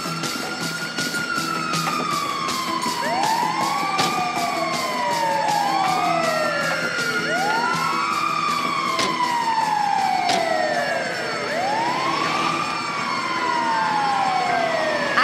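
An ambulance siren in the GTA 5 video game wails continuously and loudly with repeated rising-and-falling sweeps, several overlapping tones, over steady traffic noise.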